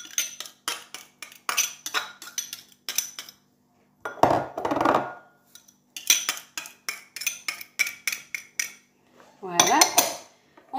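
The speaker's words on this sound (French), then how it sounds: "on va mélanger les oignons à notre viande. On va y ajouter notre persil" Ground beef is mixed with onions and parsley in a bowl, the utensil clinking and scraping against the dish in quick, uneven bursts with short pauses and a couple of softer, squelchy stirring moments.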